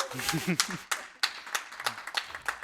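A crowd at a speedrun event claps in a short burst of scattered applause, while a commentator's voice talks over it at the start.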